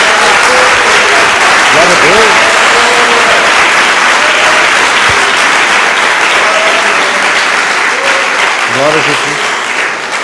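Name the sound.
audience applause for Jesus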